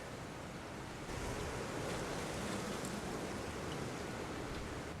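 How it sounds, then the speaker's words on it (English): Steady broadband wind rush at a winter field site, blowing continuously with a slight swell after the first second; no voices, a constant outdoor roar close to the microphone. "It's a little windy."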